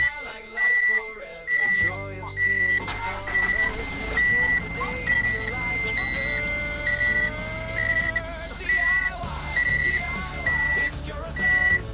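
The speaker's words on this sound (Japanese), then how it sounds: "これブザー。 プープープーってやつね。" A warning buzzer wired to a camper van's ignition sounds in a steady run of repeated electronic beeps. The tone is loud and close, and it is heard on its own without speech.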